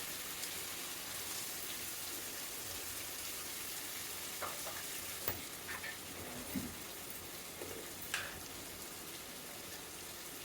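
Finely chopped onions fry in a pan for rajma curry, giving a steady, faint sizzle with soft crackles and a few light stirring clicks throughout.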